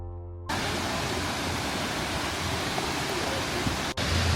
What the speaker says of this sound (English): we have arrived at Kravica Waterfall, one of the most beautiful waterfalls on earth